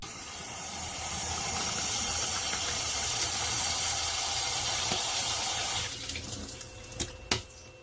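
Water running hard from a faucet, a loud continuous hissing rush for about six seconds before it cuts back to quieter trickles and a couple of sharp clunks.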